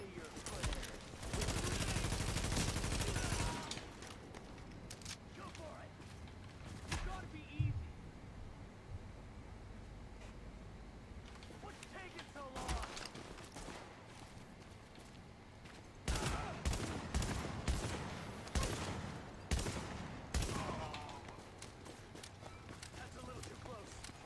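Gunfire in The Division, a survival-mode session, erupts in loud, dense bursts of rapid shots early on and again later, with quieter stretches of movement between and voices talking at times.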